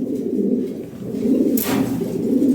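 Lahori Shirazi pigeons coo in low, throaty, rolling murmurs that carry steadily and fairly close, with a brief hiss near the middle and no speech.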